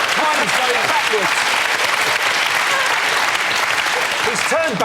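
A studio audience at a panel show breaks into enthusiastic applause, a loud, sustained burst of clapping with cheering voices mixed in, holding at full strength throughout.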